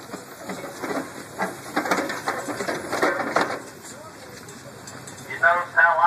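A Case steam traction engine venting steam while backing down an incline at a show in Albert City, Iowa: a steady, broad hiss with loose chuffing pulses over several seconds, fairly close, with faint crowd voices in the background.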